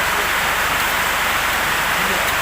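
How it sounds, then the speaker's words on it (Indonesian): Steady rain falling outdoors around a food stall, a dense constant hiss that fills the whole moment at close range with no pauses. "Jadi cuaca hari ini adalah hujan."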